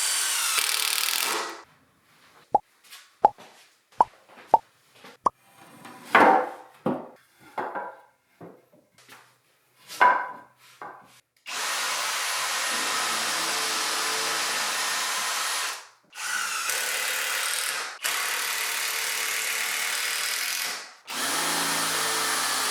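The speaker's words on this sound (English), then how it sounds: "simply drill pilot holes, whack some screws in, rinse and repeat." A power drill bores pilot holes into wood, then a driver sinks screws in short repeated bursts with clicks and knocks between, followed by long steady whirring runs of the drill, close up and with no talk.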